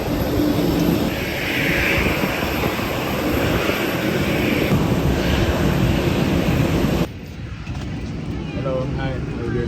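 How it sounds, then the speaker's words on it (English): A steady, broadband cabin roar and hum from inside a passenger airplane waiting on the ground before takeoff, dropping abruptly to a quieter hum near the end, with people talking faintly. "We're sitting on the plane, waiting to lift off, waiting to go."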